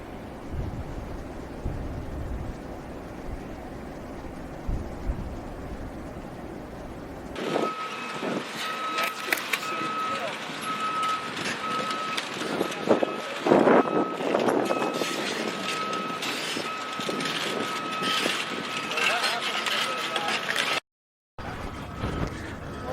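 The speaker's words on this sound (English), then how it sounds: "Two excavators are moving the 16-foot tall, 255-foot long special closed-ended AquaDam." Two excavators move a 16-foot tall, 255-foot long closed-ended AquaDam on the Stanislaus River near Sonora, California, with a steady machinery rumble and a repeating backup beep over heavy engine noise, and some speech in the opening seconds.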